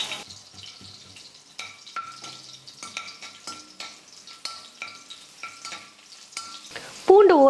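Four cloves of crushed, skin-on garlic hit hot oil with popped mustard seeds, giving a steady close sizzle under repeated scraping stir strokes from a spoon in the pan.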